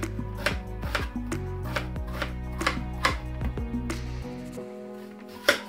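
Onions are chopped with a knife into large half-moon pieces on a board, about a dozen crisp, evenly spaced cuts ringing out close and clear before the chopping stops.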